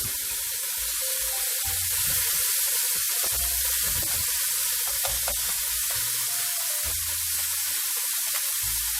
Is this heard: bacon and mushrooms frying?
yes